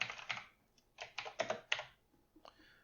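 Bursts of computer keyboard typing while a dice-roller program is entered, clustered in quick runs of keystrokes with short pauses between, close and fairly quiet, with no one speaking.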